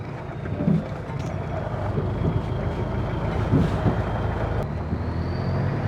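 A 1974 Jeep fitted with a Toyota diesel engine drives along rough dirt on Rampart Range Road in Garden of the Gods, Colorado Springs, giving a steady low rumble with wind buffeting the microphone throughout.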